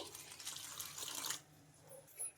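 Water pours briefly into a bowl of oats with faint splashes, then stops, followed by a quiet small clink of a spoon near the end.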